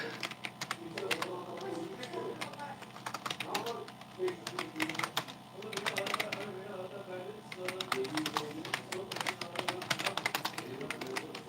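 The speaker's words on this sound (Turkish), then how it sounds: "direkt başlığı yazıyorum" Rapid, steady clicking of keys on a computer keyboard as a title is typed, close and continuous, with faint background murmur.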